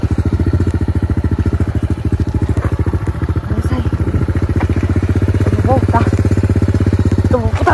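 Small single-cylinder mini motorcycle, nearly out of fuel and stalling easily, idles loud and close with a rapid steady putter near a railway line; someone speaks briefly over it.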